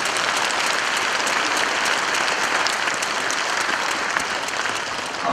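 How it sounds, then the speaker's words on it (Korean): Sustained audience applause fills a committee inauguration ceremony, dense steady clapping from a large crowd continuing throughout at strong, even volume with no speech over it. "여러분 뜨거운 성원에 박수를 한번 보내주시기 바랍니다"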